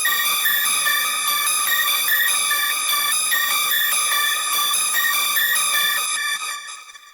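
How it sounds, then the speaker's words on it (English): Screechy, bell-like clucking synth preset from Serum for a hard trap beat, playing a steady repeating pattern of bright pitched notes for several seconds before fading out at the end, alone with no talk. "It's a cluck, but it's kind of a bit like a bell. It's quite screechy."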